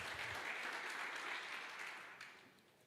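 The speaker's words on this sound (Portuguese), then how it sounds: "Você pode aplaudir Jesus?" A church congregation claps together after a call to praise during a Portuguese sermon, dense applause that holds steady and then fades out at the end, heard faint and at a distance.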